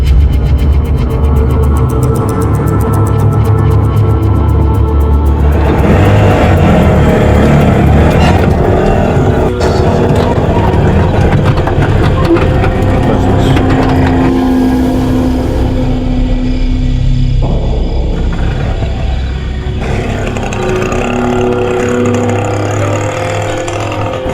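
Small engine of an auto rickshaw running steadily while driving, loud and continuous with road rumble and some shifting in pitch, no talk.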